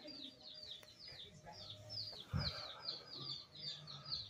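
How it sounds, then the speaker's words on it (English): Small birds chirp in repeated high tweets from the ceiling of a United States post office, faint and somewhat distant, with one brief low thump partway through amid quiet indoor background. "Listen to the birds up here in the ceiling."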